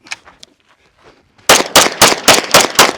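Rapid pistol shots fired at an outdoor range, seven sharp loud reports in quick even succession after a quiet lead-in with faint distant sounds.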